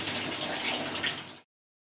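Water runs steadily and fairly loud, close by, while a young girl is bathed at home. The splashing, gushing flow cuts off abruptly after about a second and a half, leaving silence.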